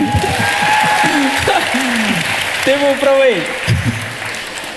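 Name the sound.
applause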